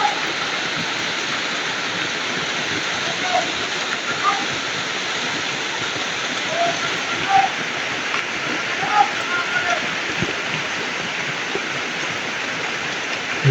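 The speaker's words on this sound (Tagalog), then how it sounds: "Saka malakas din yung ulan." Heavy rain pours steadily as a dense, continuous hiss, close and loud throughout, with a few faint scattered sounds rising briefly above the downpour.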